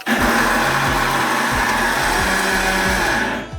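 A kitchen mixer grinder whirs loudly and steadily as it grinds spices with shallots, garlic, ginger and salt for adai batter, with a few rhythmic pulses before it winds down at the end.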